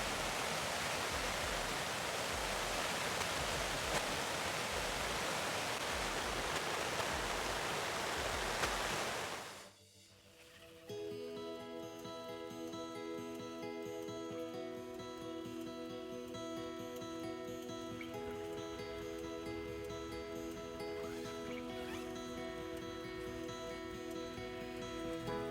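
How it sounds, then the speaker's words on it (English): Dense, steady hiss of heavy rain pours for several seconds, then cuts off abruptly, leaving a quiet background with faint tonal hum. "You think this qualifies for hard rain?"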